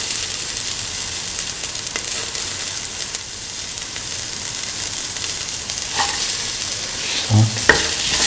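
Garlic and ginger fry in a pan for a chickpea, snake gourd and coconut milk rice dish, giving a loud continuous sizzle with a few stirring clinks near the end.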